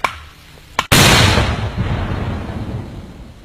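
A controlled detonation of unexploded ordnance in Laos: a sharp crack, a brief pause, then a heavy, sustained blast roar that rolls on and slowly fades over several seconds, with no voices present.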